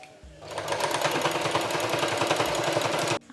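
A sewing machine stitching a fabric book pouch runs loud and close in a steady fast mechanical whir for about three seconds, then stops abruptly; the machine is skipping stitches and making overly long ones.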